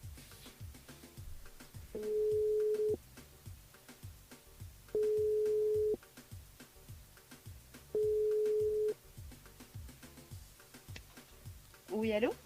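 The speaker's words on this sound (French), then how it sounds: "on appelle Isabelle du côté du sud Tampon" A telephone rings out on a radio call to a listener, with three evenly spaced long ring tones and pauses between them, over quiet background music.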